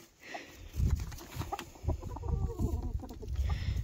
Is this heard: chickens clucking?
yes